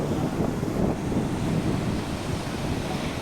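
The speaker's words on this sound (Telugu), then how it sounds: "అవి వేవ్స్ మన దగ్గరికి వస్తున్నప్పుడు కలిగే ఆనందం కూడా చాలా డిఫరెంట్" Sea waves wash onto a beach at Pondicherry, a steady, fairly close surf wash blended with wind noise on the microphone.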